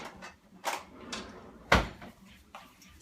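A kitchen drawer slides and shuts with one clear wooden knock midway, framed by softer rummaging and handling sounds in a quiet room.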